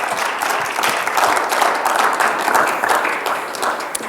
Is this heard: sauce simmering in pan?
no